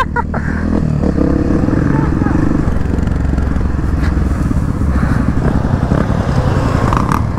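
Motorcycle engine revving and accelerating on a dirt trail ride, a loud, steady close-up roar with rough mechanical rattle throughout, no pauses.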